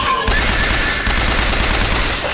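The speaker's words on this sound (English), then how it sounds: "Just use the machine gun" Machine gun firing in a Bioshock Infinite game fight, a loud sustained burst of rapid automatic fire with no gaps, close and dominant throughout, with no talking.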